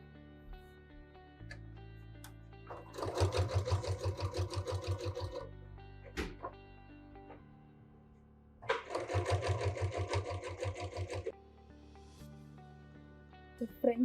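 Sewing machine stitching binding tape along the edge of fabric, in two loud sustained bursts of rapid stitching separated by quiet pauses with light handling noises.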